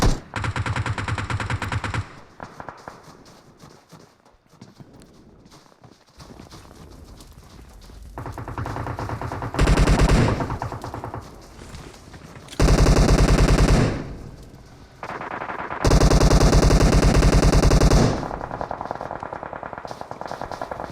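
Rapid automatic gunfire erupts in a PUBG-style battle royale tournament match, with rattling bursts of several seconds each that alternate with quieter stretches of distant shots. The sound is loud and dense.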